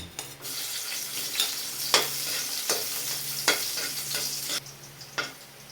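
Garlic sautés in a hot pan, a steady crackling sizzle with repeated sharp scraping stir strokes at an irregular rhythm, close and fairly loud, with no one talking.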